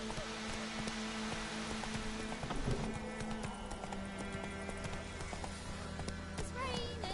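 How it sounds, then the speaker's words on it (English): Steady rain pours in the video game The Witcher 3 as a horse's hooves clip-clop along, dense hiss filling the scene with a few brief louder knocks. "It's raining, it's pouring"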